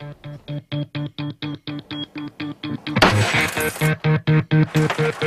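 A bullet strikes bullet-resistant glass and shatters its unreinforced acrylic layer, giving a sudden loud crack and crunching burst partway through, set against a steady, evenly repeating pulsing tone that runs throughout.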